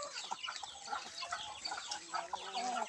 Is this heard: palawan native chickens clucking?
yes